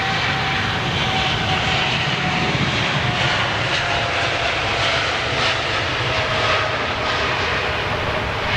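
Air India Boeing Dreamliner jet airliner at London Heathrow, a loud, sustained engine roar with a broad rushing whine that holds steady throughout, heard from nearby with no talking.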